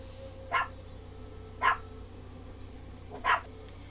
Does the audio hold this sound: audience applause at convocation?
no